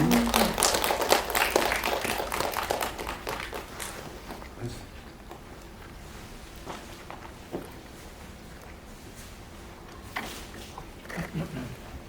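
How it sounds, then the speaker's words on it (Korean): Applause from a press-conference audience at a Korean film screening and Q&A, fairly loud at first and thinning to a low scatter of claps and footsteps, with a few faint voices near the end. "박수 주시면 감사하겠습니다"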